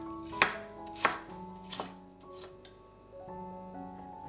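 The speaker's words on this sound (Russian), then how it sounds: "Перец нарезаю небольшими кубиками." A knife chops sweet pepper into small cubes for a soup. A few crisp, separate cuts land about half a second apart, with soft, steady background tones beneath.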